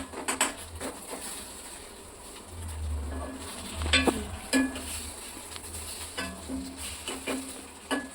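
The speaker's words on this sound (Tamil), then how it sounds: "இப்போ முட்டையை போட்டுடலாம்" An egg frying in a pan during home cooking, with a soft steady sizzle, occasional light clicks and scrapes of stirring, and a low background hum, close and moderately quiet.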